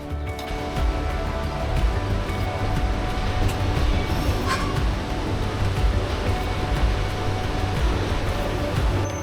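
Steady rumbling and rattling of the Kuranda Scenic Railway train in Queensland, Australia, heard from inside a moving carriage, a constant rolling roar with clacks and no voices.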